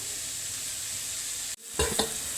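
Onions sizzle steadily in hot oil in a pan, with a brief pause and then a louder burst of scraping and sizzling as they are stirred near the end.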